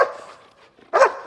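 A puppy named Bang gives a single sharp bark on command at close range, following a softer fading whimper-like sound, in a quiet training session.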